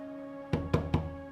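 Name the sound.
knocking on a door in a Bollywood film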